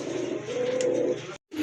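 Pigeons kept for sale coo in a low, throaty, wavering call, close and clear, broken by a brief silence near the end before the sound resumes.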